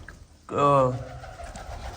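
A single pigeon coos once, close and clear, a short throaty call against quiet outdoor background.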